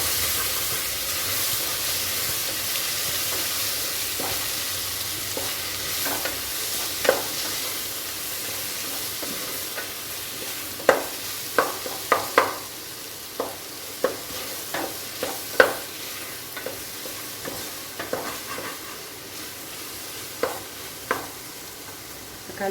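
Egg biryani masala frying in an open pressure cooker is stirred with a spoon, giving a low continuous sizzle and hiss with irregular scraping clicks and knocks that pick up midway, close and steady, with no talking.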